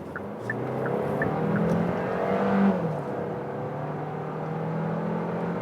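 Compact SUV accelerating in sport mode on a road, a steady engine and road drone that swells briefly as it pulls harder, then settles into an even cruise; close, fairly loud, with no talking.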